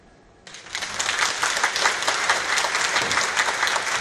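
Audience applause fills a festival hall at the opening of the Kazan international Muslim film festival, starting suddenly after a quiet moment and holding steady as dense, loud clapping from a large crowd.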